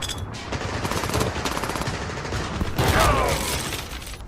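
Sustained rapid gunfire rattles in an animated stop-motion battle, with dense overlapping bursts of automatic fire and a louder swell of shots near the end.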